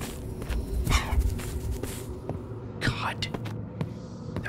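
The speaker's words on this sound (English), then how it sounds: "No dog barking in my ear, please." A dog barks from a horror video game, a few sharp bursts rising over a low throbbing ambient hum, with faint whispery game sounds in the background.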